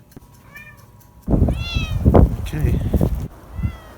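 A cat meows several times, with short rising calls, some faint and some loud and close, while a person speaks nearby.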